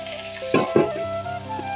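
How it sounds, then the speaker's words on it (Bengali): Brinjal chorchori, a mixed vegetable dish, frying with spices in a pan, heard as a brief close sizzle with two sharper bursts of stirring in the middle, with no talking. "এখন হোক চচ্চড়িটা ভাজা ভাজা মশলা দিয়ে"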